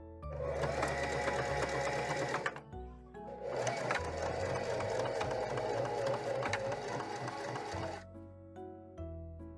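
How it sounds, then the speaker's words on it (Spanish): A sewing machine stitching a dress strap close to the fabric edge, running in two long loud whirring bursts with a brief pause between, close and steady, with no talking. "Cosemos primero de esta manera, luego giramos el tirante y cosemos bien cerquita del orillo."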